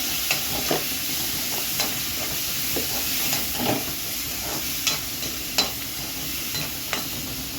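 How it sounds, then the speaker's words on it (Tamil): Tomatoes sauté in a pan for fish curry, giving a continuous close sizzle and hiss with periodic spatula scrapes and taps every second or so. "தக்காளி நல்லா வதங்கணும்"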